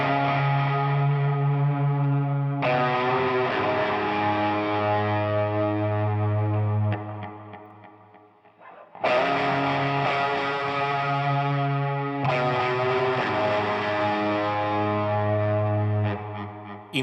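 Fuzz-distorted electric guitar through a Fractal Axe FX, played as two matching sustained passages with thick harmonics, compared with and without a high-cut filter, loud and alone with a brief drop between takes.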